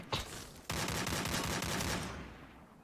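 Rapid automatic gunfire bursts from a Free Fire battle royale esports match, loud and dense, with a short shot early followed by a sustained volley that fades toward the end, no talk.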